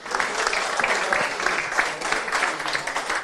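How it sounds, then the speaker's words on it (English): Pub crowd in Crotties giving a round of applause on a Champions League preview night, dense clapping with scattered cheers, fairly close and lively, sustained for a few seconds. "Give them a round of applause, everybody."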